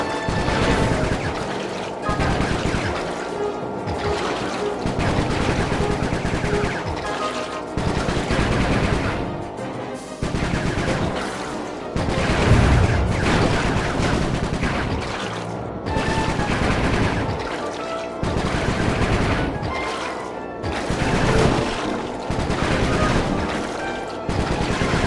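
Gunfire in the Sly Cooper 3 video game: dense, loud machine-gun bursts repeat steadily for the whole stretch, with short gaps between volleys and no talking.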